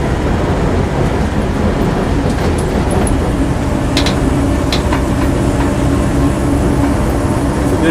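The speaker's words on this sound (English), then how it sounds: "The only thing that's rattling slightly in the back is the spare wheel is mounted on the bulkhead behind me" A 1960s-era Land Rover Series 2A 88-inch hardtop driving along, heard from inside as a steady loud engine and road rumble, with faint intermittent rattles from the spare wheel mounted on the bulkhead behind.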